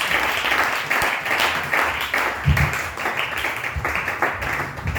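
A church congregation applauds to acclaim the Lord, with dense, sustained clapping filling the whole stretch at a steady, fairly loud level and a few faint voices mixed in.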